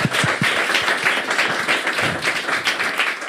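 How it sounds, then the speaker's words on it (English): An audience at a panel event in Amsterdam gives a short, fairly dense round of applause that keeps an even level throughout, with a few heavier claps standing out near the start. "Put a round of applause"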